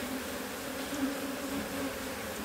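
Honey bees swarm around a hive in Réunion during an icing-sugar varroa test. Close, steady buzzing hums without a break, with no voices.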